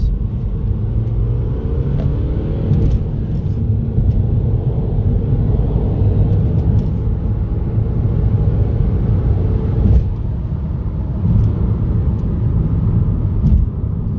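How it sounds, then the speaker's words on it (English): A BMW 125d diesel pulls hard through second, third and fourth gear, a steady interior engine drone with rising tones and brief dips at each gear change, continuous and fairly loud with no talking. "So that was the second and third and fourth gear pull."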